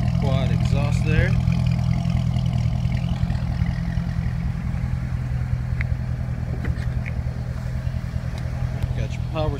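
Low, steady idle rumble from a Daytona Beach orange Corvette's engine through its quad exhaust, continuous and fairly loud, with someone talking over it near the start.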